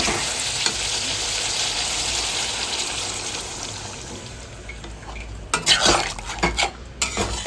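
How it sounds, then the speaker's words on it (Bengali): Spicy Bengali-style elephant foot yam (ol) curry sizzling loudly in a pan with steady frying hiss and stirring, then water is added and the sizzle breaks into sharper bursts and scrapes near the end. "এবার আমি এর মধ্যে জল দিয়ে দেবো।"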